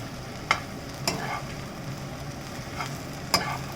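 Brown bread upma being stirred in a pan over a flame, a steady frying sizzle throughout broken by a few sharp scrape-and-clatter strokes, close and clear with no talking.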